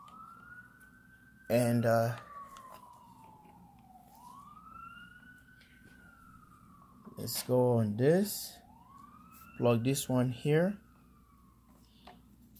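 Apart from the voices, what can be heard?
emergency vehicle sirens outside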